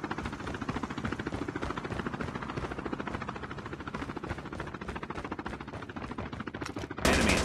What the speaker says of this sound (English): Friendly deployed chopper gunner.